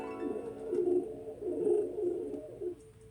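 Doves cooing softly, a few repeated low hooting phrases in a gentle rhythm, fairly close and alone without talk.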